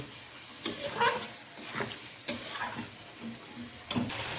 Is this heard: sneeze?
no